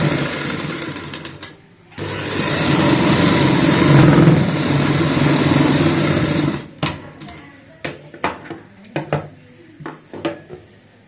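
Sewing machine stitching a topstitch on plain palazzo fabric, running steadily for several seconds with a brief pause, then giving way to short handling knocks and clicks.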